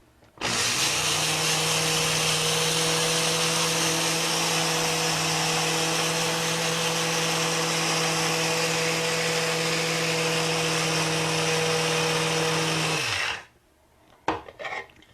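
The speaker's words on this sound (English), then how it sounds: "I need to grind this for about a minute so that they're well ground into very small bits" An electric grinder grinds flaxseed for a Budwig recipe with a loud, steady, high whir for about thirteen seconds before it stops abruptly, followed by a few faint clicks.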